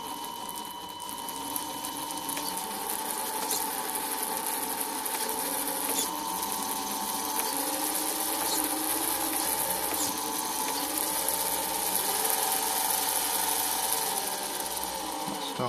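A Tamiya Scania 770S 8x4 heavy hauler model truck gearbox runs on the bench, giving a steady, quiet mechanical whir and whine with faint rhythmic gear chatter, continuous throughout.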